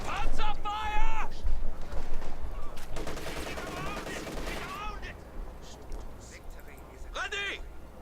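Tank and gun fire in the Company of Heroes 2 strategy game, with rattling bursts and a heavy crack amid battle noise, under near-continuous talking.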